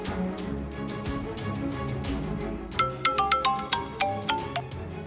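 A mobile phone rings with a melodic ringtone in a domestic drama scene: repeated chiming tones that form a short tune, getting sharper and more percussive in the second half, heard clearly with no talking.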